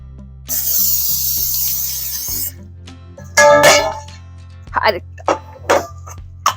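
A loud hiss of nonstick cooking spray onto a pan for about two seconds, then clatter and short bursts of spraying, with a steady low hum underneath.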